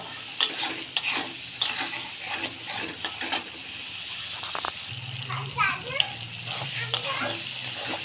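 Masala and prawns are stirred and fried in a pan with small splashes of water added, giving near, rhythmic scraping over a constant sizzle, with a voice and other talk in the background.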